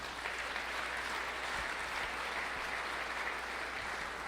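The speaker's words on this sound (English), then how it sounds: "let's just give you a round of applause for" Steady applause from the audience at a one-day e-commerce mastermind event, an even, unbroken wash of clapping at constant loudness.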